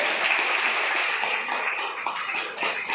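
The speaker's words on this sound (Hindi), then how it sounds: "तो जोरदार तालियां होनी चाहिए उसके लिए" Audience applause at a product presentation in a hotel hall in Maninagar, a dense, steady wash of clapping that holds for about three seconds without a break.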